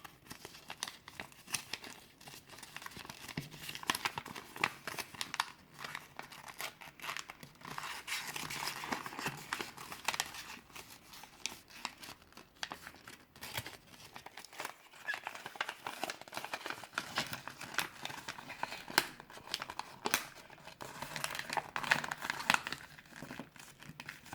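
Paper being folded by hand into a wallet, a steady close crinkling and rustling with sharp creasing sounds that continue for the whole stretch.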